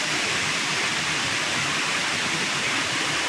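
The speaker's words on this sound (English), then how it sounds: "There's the waterfall." A waterfall in spring outdoors, a dense, constant roaring rush of falling water, loud and unbroken throughout with no voices.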